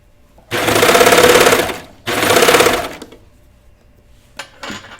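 Sewing machine stitching a knit T-shirt, running in two loud, steady bursts of rapid whirring, each about a second and a half long, followed by quieter handling sounds.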